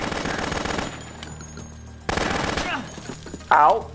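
Video game gunfire opens with a rapid burst of bullets, drops to a quieter lull, then breaks into fresh shots with a sharp final blast near the end.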